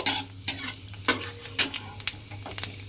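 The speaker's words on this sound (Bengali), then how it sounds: "সেই কালো জিরেটা আমি তেলের মধ্যে দিয়ে দিলাম। দিয়ে কালো জিরেটাকে প্রথমে একটু ভেজে নেব।" Black cumin seeds (kalonji) fry in hot oil with a bright crackling sizzle, punctuated by regular sharp scrapes and taps of a spoon stirring the pan about every half second.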